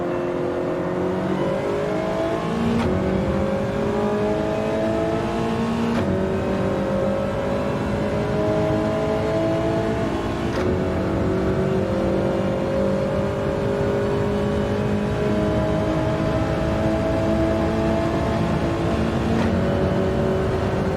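Race cars in Gran Turismo 7, Toyota Trophy league round at Deep Forest Raceway, drone steadily in a tight pack, engines rising and falling through shifts for the whole stretch with no talk.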